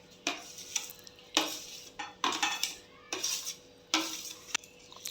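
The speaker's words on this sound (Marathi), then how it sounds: "पाक सगळा छान ढवून घ्यायचा आहे त्यातल्या गुठळ्या होत असतील त्या मोडून घ्यायच्या आहेत" A spoon works a besan and semolina laddu mixture with cardamom powder through hot sugar syrup in a metal pan, breaking up lumps with repeated scraping, clinking strokes in an uneven rhythm, close and fairly quiet with no talk.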